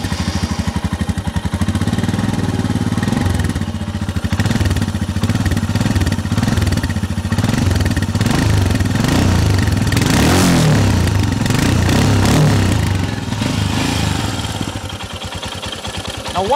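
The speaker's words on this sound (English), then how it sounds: "change the sound profile of this motorcycle" A BS6 Royal Enfield Himalayan motorcycle with its stock exhaust runs close by, a steady thumping single-cylinder idle with a few revs rising and falling, loud and continuous with no talking.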